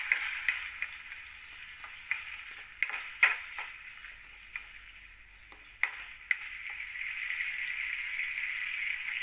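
Tomatoes and green chilies sautéing in a pan for a drumstick vegetable curry, a steady moderate sizzle broken by sharp clicks and taps of a stirring spoon against the pan.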